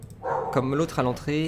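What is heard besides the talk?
dog barking in the room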